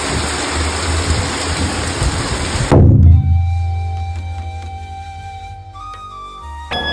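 Sudden heavy rain pours down in Belize City as a dense, loud roaring wash, then cuts off abruptly to a quieter indoor hum with faint tones.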